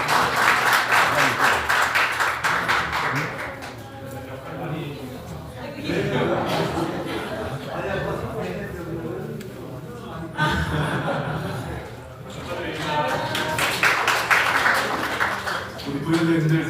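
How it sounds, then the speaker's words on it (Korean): Audience applause fills a seminar room at a Democratic Party multicultural committee launch ceremony in the National Assembly members' hall, a steady wash of clapping that swells and dips over about seventeen seconds with voices mixed in. "다시 한번 큰 박수 부탁드립니다."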